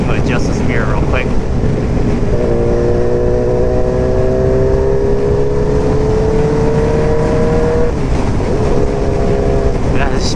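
A loud Yamaha R1 sport motorcycle engine with 32,000 miles and a check engine light, droning steadily at close range with a rising tone in the middle, under wind noise.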